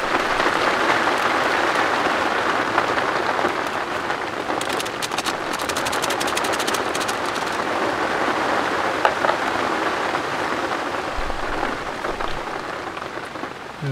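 Heavy, nonstop rain pours down on a solo camp in a storm, a dense, loud hiss of drops hitting surfaces that fills the whole stretch without pause.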